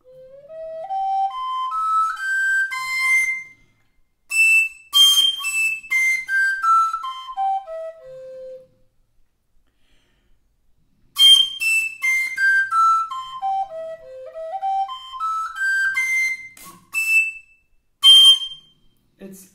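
A descant recorder plays a high-note exercise, rising and falling through fast scale runs with short repeated high notes, then the pattern repeats after a pause. Clear and solo.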